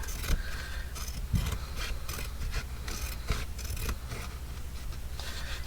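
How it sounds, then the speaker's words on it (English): Fabric scissors trim excess fabric during paper-craft ephemera making, giving close, continuous rasping snips and scraping blade strokes in a quiet room. "grab my fabric scissors and just trim off the excess fabric"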